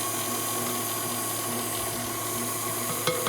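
A kitchen stand mixer runs steadily while making ladyfinger batter with egg yolks, giving a constant whirring, gear-like mechanical drone with a small clunk near the end.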